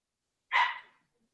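A single dog bark rings out loud and close against otherwise silent background, a short sharp bark that trails off quickly, with no talk around it.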